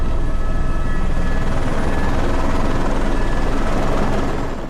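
A rescue helicopter roars close and loud as a steady, dense rotor and engine drone, continuous throughout with no talk, fading slightly at the very end.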